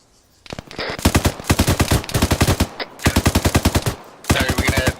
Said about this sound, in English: get fire out towards that contact